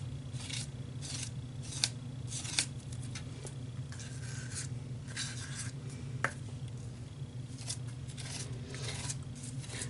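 Scissors snip and rasp through printer paper in a scrapbooking workshop, a run of short cutting strokes with a few sharper clicks over a steady low hum, close and fairly quiet.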